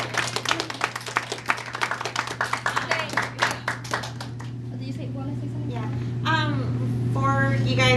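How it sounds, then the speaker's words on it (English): An audience at a panel discussion gives a round of applause, with several seconds of scattered clapping that thins out and gives way to talk. "let's just give Survivor Thrive as an organization a round of applause"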